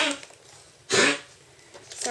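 An old dog hacks and coughs in one loud, harsh burst of about a third of a second near the middle, close by, with quiet room noise around it.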